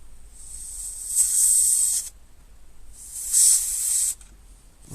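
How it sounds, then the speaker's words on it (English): Contact spray hisses from an aerosol can onto a part of a broken Volvo C70 electric roof mechanism, in two steady bursts of about a second each, close and fairly loud. "just give that a little flick of contact spray"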